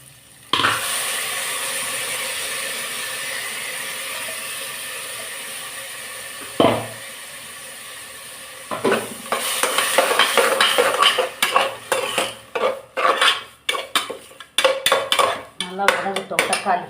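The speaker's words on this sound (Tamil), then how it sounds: "நல்லா வதங்கட்டும் தக்காளி." Tomatoes sauté in a pot for one-pot rice kara kulambu, a long steady sizzle that fades gradually, then a metal spoon stirring and scraping against the pot in quick, clattering bursts, with no talk.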